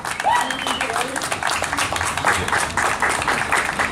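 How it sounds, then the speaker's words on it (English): Clapping rises for young artist Mr. Wolf at a comic con gallery event, a moderate crowd of hands beating steadily for several seconds while voices murmur underneath. "let's give him a round of applause"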